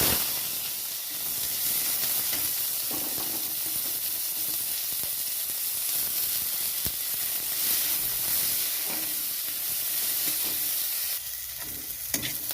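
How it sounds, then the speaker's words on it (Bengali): Onion frying in mustard oil in a kadai after dried red chilies, a steady close sizzle with bright hiss and occasional stirring scrapes throughout, the frying briefly easing near the end. "এখানে দিয়ে দিচ্ছি পেঁয়াজ"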